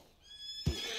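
A horse in the video game Red Dead Redemption 2 lets out one sudden, loud whinny partway through, after a stretch of faint background with a steady high tone.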